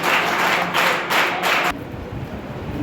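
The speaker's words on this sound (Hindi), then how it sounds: "एक साथ ताली बजा" A group of trainees at a five-day scouting and guiding camp at a college claps together in unison, loud and close, in several strong bursts before falling quiet.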